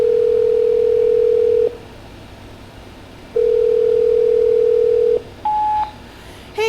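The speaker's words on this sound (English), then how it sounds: "Hey, Siri, call my agent." A phone plays a steady dial tone in two long stretches separated by a pause, followed by a short higher beep as a call is placed.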